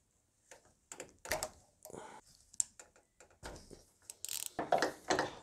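Socket ratchet clicking while undoing bolts on the high-pressure fuel pump of a Mercedes E220 CDI W210 diesel, short bursts of close, quiet ratcheting with metallic taps and pauses between them.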